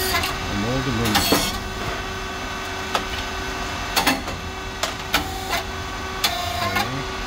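An SYP4506 thin-chip rice cake machine with coated moulds runs with a steady mechanical hum and a tonal whine, punctuated by sharp intermittent clacks and hisses from the moulds, while someone talks over it.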